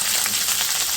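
Onion, tomatoes and green chilies fry in a pan with a steady, dense hiss of sizzling oil, loud and close.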